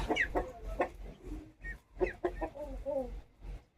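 Hens cluck softly in short, irregular bursts near a nest where eggs are laid, fairly quiet and close, with a low background rumble and no clear speech.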